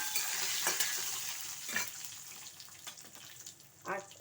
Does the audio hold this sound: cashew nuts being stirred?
yes